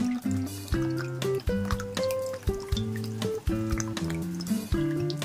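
Water poured into a pot of rice gurgles and splashes up close, its pitch rising in stepped tones as the vessel fills, in several successive pours with short breaks between.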